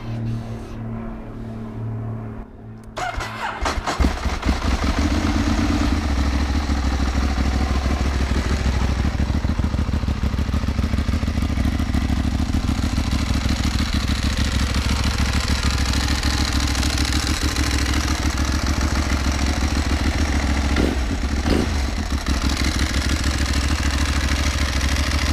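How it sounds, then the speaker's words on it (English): A Ducati 1198S motorcycle fitted with new air filter pods starts up after a brief quiet moment, then settles into a steady, loud, close idle with a deep throbbing rumble that holds without a break. "let's start it up and just make sure everything is fine"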